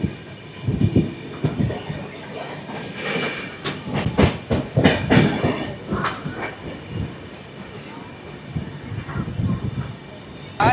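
The Black Diamond Express runs from Howrah to Dhanbad, heard from inside the coach as a rumbling, rattling ride with rhythmic wheel clacks and bursts of louder clatter, passenger voices mixed in.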